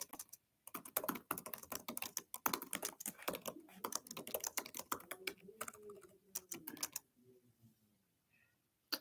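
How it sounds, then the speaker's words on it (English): Rapid typing on a computer keyboard, with quick close clicks in dense bursts before slowing and stopping. "I'm gonna type something really quickly"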